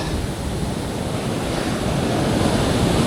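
Loud, continuous roar of ocean surf with wind rushing across the microphone, close and unbroken.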